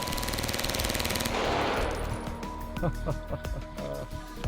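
Pistol gunfire from Counter-Strike 1.6, loud and fully automatic, a dense rapid burst of shots for over a second followed by a few scattered single reports and clatter.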